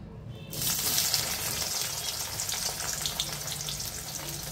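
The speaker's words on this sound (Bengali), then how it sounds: "দিয়ে দেবো তেলে পেঁয়াজ," Onions sizzle and spit as they fry in hot oil in a pan that has just been used to fry whole mourala fish. The crackle starts abruptly and stays close and steady throughout.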